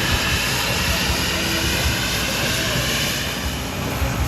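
A steam traction engine hauling at the Welland Steam Rally gives a continuous broad, rumbling roar with a steady low churning texture and no distinct beats, loud and close throughout.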